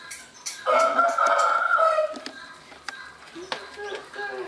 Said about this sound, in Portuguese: O galo canta aqui